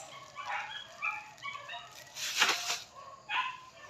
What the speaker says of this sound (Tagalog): Ano na naman ang nangyayari sa mga aso namin sa labas?